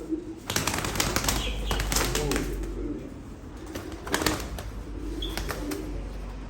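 Mardin tumbler pigeons move about with bursts of wing flapping and soft low cooing, close by and fairly steady, with a few brief flurries standing out over a constant outdoor background.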